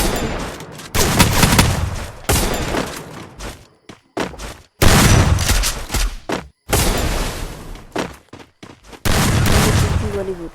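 Gunfire in a shooting video game: repeated bursts of loud, rapid shots and automatic fire separated by short silences, with a player's voice talking between the bursts.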